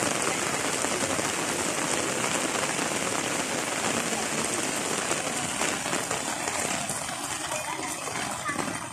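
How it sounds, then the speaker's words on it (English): A constant downpour on Mahanay Island pours onto nearby surfaces as a loud, unbroken hiss, with faint voices mixed in beneath the rain. "And today is rainy day."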